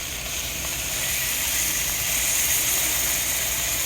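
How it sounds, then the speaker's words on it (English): A steady, loud hiss carries on without a break as chops sizzle hard in a hot frying pan. "Oh yeah, listen to that sizzle."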